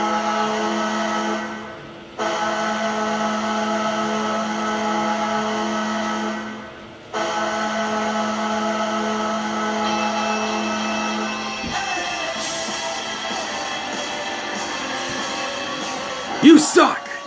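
The New Jersey Devils NHL goal horn blares in long sustained blasts with brief gaps, then the goal song comes in with a burst of crowd-like noise near the end.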